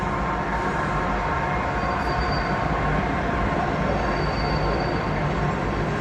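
A train rolls past close to a trail shelter on the Allegheny Trail, a loud, constant rumble and clatter of rail cars that holds steady for the whole stretch with no voices.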